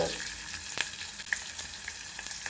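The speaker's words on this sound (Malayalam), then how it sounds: "വെളിച്ചെണ്ണയും ഒഴിച്ചിട്ടുണ്ട് ഇഞ്ചി ഇടുകയാണ്" Ginger frying in coconut oil in a pan gives a steady, close sizzle with scattered sharp crackles and pops throughout, and no voices.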